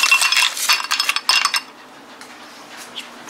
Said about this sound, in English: You need lots of delicious ice cubes.